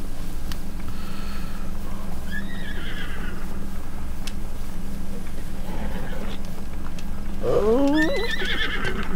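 A horse in the video game Breath of the Wild neighs and whinnies in two bursts, the second louder and nearer, with soft hoof clip-clop under a steady background hum.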